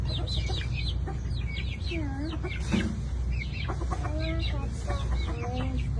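Several chickens cluck and chirp close by in a steady, busy stream, with a low hum beneath them.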